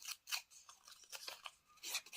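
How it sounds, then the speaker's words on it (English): Paper is torn by hand at the top of a small piece of craft paper, giving a series of short, quiet, close rasping rips with brief gaps between them. "I'm just going to go ahead and tear at the top again"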